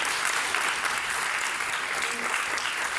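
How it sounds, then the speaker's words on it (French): An audience claps loudly and continuously for schoolchildren at the opening of a school radio station, dense even applause filling the room without pause. "on peut les applaudir vraiment bien fort"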